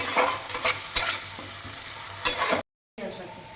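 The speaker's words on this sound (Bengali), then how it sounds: "এবার এটা খুব ভালো করে একটু কষাবো বেশ ভালো ভাজা ভাজা হবে" Onion and ginger stir-fried in a pan, a loud close sizzle with repeated clattering stirs and scrapes, cutting out briefly near the end before resuming, no voices.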